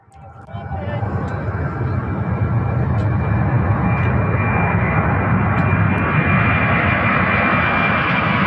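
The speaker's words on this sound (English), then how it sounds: "UPS 767, runway 17 right." UPS Boeing 767 jet on runway 17 right at Louisville's Worldport, a loud sustained engine roar that builds in the first second and then holds steady, with a person talking over it.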